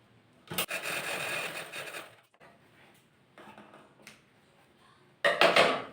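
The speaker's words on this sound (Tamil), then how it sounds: "இந்த துணியெல்லாம் நேராக வச்சு அடிச்சிருங்க. அதே மாதிரி 2 தையல் போட்டுக்கலாம்." Fabric is stitched straight on a sewing machine in short close bursts: a longer run near the start, a softer stretch in the middle and a loud final burst, with quiet gaps between.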